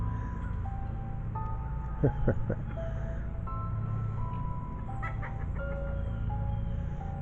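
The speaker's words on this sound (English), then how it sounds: "I see a couple of chickens over here." Soft, intermittent clucking of chickens at a chicken farm over a low steady background hum, with a few brief sharper calls midway.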